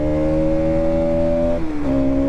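A 2025 Bajaj Pulsar NS 200 motorcycle accelerating, its loud close engine note climbing steadily through a gear, dipping at the shift and then rising again, with no talk.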